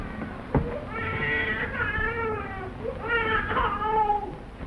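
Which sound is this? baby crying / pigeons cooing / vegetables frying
baby crying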